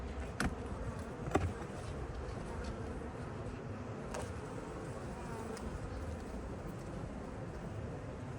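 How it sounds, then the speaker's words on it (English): A honey bee drone buzzes steadily close to a beekeeper's hand beside an open hive, its continuous insect drone joined by a few faint clicks and taps. "I got a drone buzzing my hand as if he can do anything to me."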